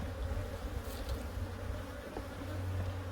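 Honey bees buzz densely from an opened hive during a colony merge, a continuous close hum of many wings with slight swells, no voices.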